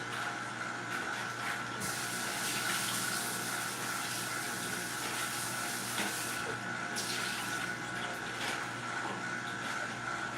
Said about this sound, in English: I'm just gonna pour the water off from the grapes that I have here